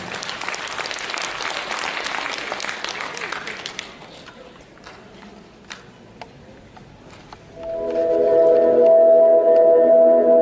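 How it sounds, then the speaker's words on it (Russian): Audience applause at a festive concert, a dense burst of clapping that fades out after a few seconds, leaving quiet scattered taps before tonal music starts. "Давайте их вновь поприветствуем громкими аплодисментами."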